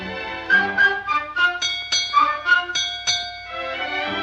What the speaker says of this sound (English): Four bells and all's well.